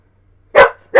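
Dogs bark twice up close, a loud sharp bark followed by a second one cut off at the end, with no talking.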